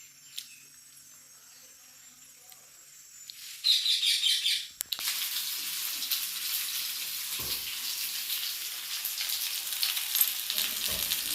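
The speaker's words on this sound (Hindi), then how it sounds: "देखो पोटल आलू भजा चलछि।" Pointed gourd and potato fry in a pan with a steady, bright sizzle that swells suddenly partway through and continues evenly, while faint bird chirps sound in the background.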